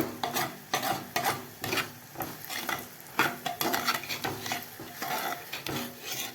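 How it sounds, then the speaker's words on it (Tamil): Masala powder is stirred into sautéed onions in a pan for a kuzhambu, a near, rhythmic series of spoon scrapes and clanks over a soft sizzle, with no talking. "இந்த எடுத்து வச்சுருக்கிற மசாலா பொடியை போட்டுடலாம் போட்டுட்டு சும்மா ரெண்டு பெரட்டு பெரட்டி விட்டுட்டு"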